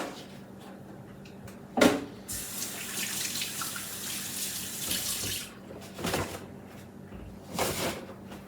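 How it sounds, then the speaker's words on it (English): Hands being washed under a running kitchen tap while preparing a grilled summer lunch, with a steady stream of water splashing for several seconds and brief louder gushes and knocks near the start and end. "let me wash my hand really quickly"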